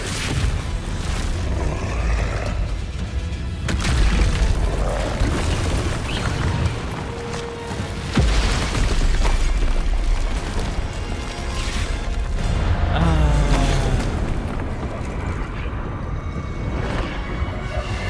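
Repeated booming blasts of the Expulso explosion spell in Hogwarts Legacy during a fight with a troll, loud close bursts scattered among continuous clattering combat noise and crashing debris.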